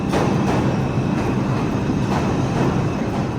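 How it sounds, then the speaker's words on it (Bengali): Subway train arriving at a station in Manhattan, New York: a steady, loud, broadband rumble and roar fills the platform throughout, with no voices. "এই যে ট্রেন অতিমধ্যে চলে আসে"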